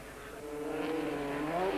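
Race car climbing a hill at a 1997 Super Series event, engine droning steadily and rising slightly in pitch as it nears, moderately distant with no talk.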